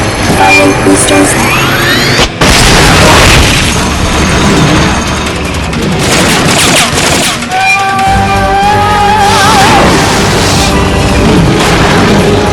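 Boosters fire during a mission in the video game Metal Gear Solid Peace Walker HD, a loud, continuous barrage of booms, blasts and rumbling engine roar, with sharp bursts and rising whines layered throughout.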